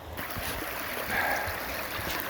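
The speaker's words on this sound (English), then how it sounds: "Alright, water's coming in pretty hot" Water rushes steadily through gold prospecting gear in winter, Indiana, a continuous close hissing wash with gurgling and splashing that swells briefly midway and never lets up.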